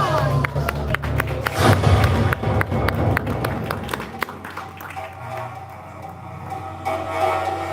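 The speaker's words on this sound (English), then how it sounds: "we need a bigger round of applause now" Applause from an audience at a token launch event in the Burj Khalifa, Dubai, right after a launch countdown: dense, loud clapping that thins and fades over several seconds, with voices in the crowd.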